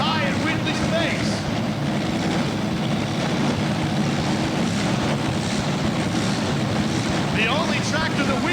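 A loud, continuous roar from a multi-engine pulling tractor at an indoor tractor pull, dense and unbroken throughout, with a voice speaking over it now and then.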